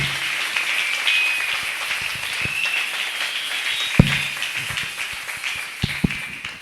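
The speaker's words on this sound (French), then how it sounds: "On acclame fortement le Seigneur." A church congregation applauding, steady dense clapping at moderate distance lasting several seconds, with a few sharper close taps standing out.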